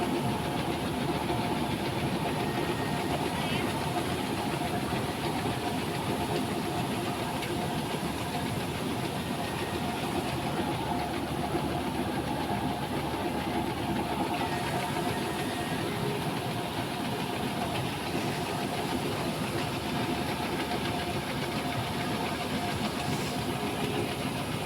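A tractor engine runs steadily on a wheat farm, a loud, unbroken drone lasting the whole stretch, with no talking.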